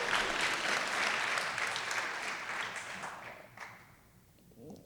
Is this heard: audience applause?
yes